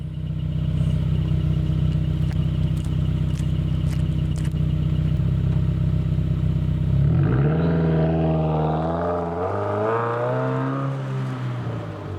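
A loud, raspy Subaru WRX/STI with muffler delete idles steadily, then revs up and pulls away, its rising gear changes fading into the distance.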